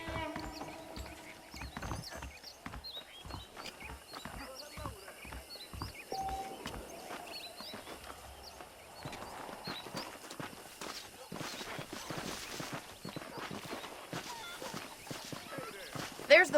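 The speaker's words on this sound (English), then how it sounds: "The horses are saddled up over here." Horses' hooves clip-clopping in Red Dead Redemption, a steady rhythmic trot of hoofbeats under continuous talk and background game ambience.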